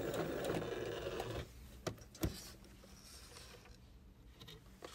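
A sewing machine stitches a seam on a quilt block, a busy whirring buzz for over a second, then stops, followed by a few soft clicks and fabric handling sounds at low level.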